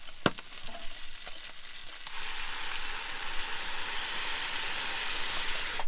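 Rice cooking in sauce for paella in a pan inside a van, a few sharp clinks of a utensil at first, then a steady broad bubbling sizzle that rises and holds loud to the end.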